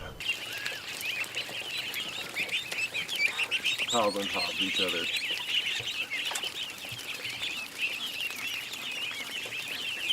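A busy flock of ducks and ducklings in a yard, crowded close together, quacking and chattering in a steady high-pitched din, with someone talking briefly over the birds.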